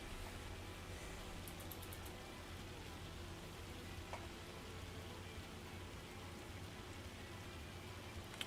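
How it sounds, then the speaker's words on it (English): Rain in Farming Simulator 25 falling as a soft, steady hiss of dense drops, faint and unbroken throughout, with a few tiny ticks and no voices over it. "It'd be nice if this rain went away."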